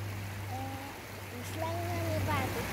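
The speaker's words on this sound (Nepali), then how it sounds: "यो फुडी खोला भन्छ है यसलाई है, फुडी खोला।" The Phudi river, a small stream by a footbridge on the road to Huslang, rushes in a steady broad wash. A few faint tonal calls sit over the flow and nobody speaks.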